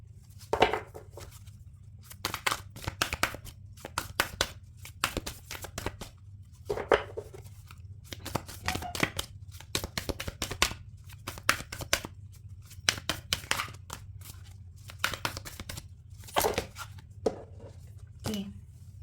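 Cards being shuffled by hand in repeated quick riffling bursts, each a dense papery flutter with short pauses between, close and fairly quiet over a steady low hum.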